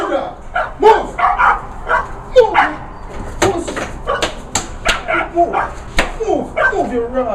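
A dog barks and yips repeatedly in a yard at night, loud and close, in short bursts mixed with a voice shouting at it.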